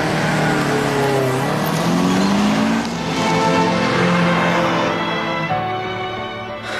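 Car driving in the Initial D anime, with a loud engine note rising and shifting through gears and some tire squeal, continuous throughout with no talk.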